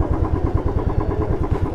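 A motorcycle engine idles close by, its rapid, regular low pulsing thrum steady and fairly loud throughout, with no talk over it.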